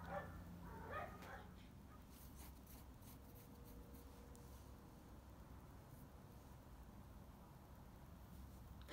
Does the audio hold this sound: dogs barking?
yes